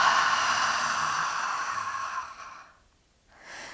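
A long, steady exhale through the mouth during a lying-on-the-back hypopressive breathing exercise, close and breathy, fading out before a brief second breath at the end.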